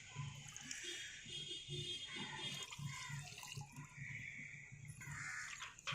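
A homemade thēmōr karaisal plant solution is poured into water, giving a faint, continuous trickling and splashing that stays soft and close throughout.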